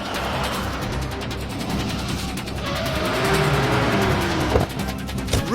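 A car is driven fast with a constant engine roar that climbs in pitch, and road noise and a brief squeal sit on top, loud and close from inside or beside the vehicle.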